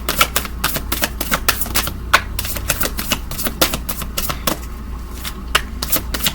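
Playing cards drawn out and handled in a series of crisp, quick snaps and flicks, close and fairly loud, with irregular bursts of riffling and slapping against a low steady hum.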